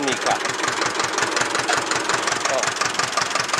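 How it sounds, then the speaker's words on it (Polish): A 1963 Ursus C-325 diesel tractor engine idles with a steady, rapid knocking chug, loud and close, with a brief spoken word over it. "Tu sobie silnik elegancko pracuje"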